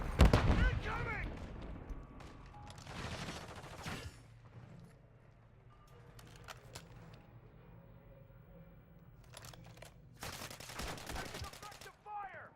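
Gunfire in a military shooter video game: bursts of shots at the start, around three to four seconds and again near ten to twelve seconds, with quieter game ambience between, and voice callouts mixed in.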